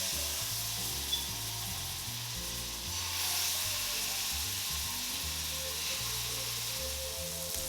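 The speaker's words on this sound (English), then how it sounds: "I'm gonna sear them on both sides until they get nice and brown" Scallops sear in a hot pan over medium-high heat, giving off a loud, continuous sizzle with a steady hiss throughout.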